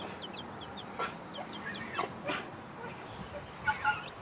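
Young chickens on their first day out on the ground cluck and chirp softly in short scattered bursts, with a faint dog bark nearby.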